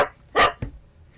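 A man imitating a dog's bark with his voice, giving two sharp, loud, close barks in quick succession, the first longer and the second a short clipped yelp, followed by quiet.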